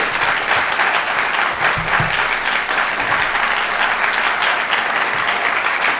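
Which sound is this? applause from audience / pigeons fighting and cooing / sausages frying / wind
applause from audience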